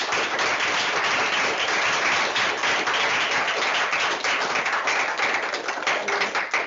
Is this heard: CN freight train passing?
no